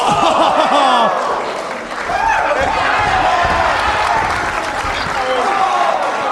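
Wrestling crowd at an IWA-MS Ted Petty Invitational match between Low Ki and Davey Richards, loud cheering and applause swelling after a brief dip, with a commentator talking over it.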